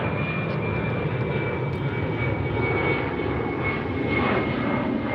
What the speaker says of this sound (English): Boeing 737-900 series ER.